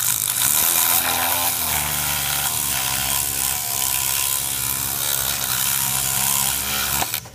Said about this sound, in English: take a sandpaper mandrel and sand that off a little bit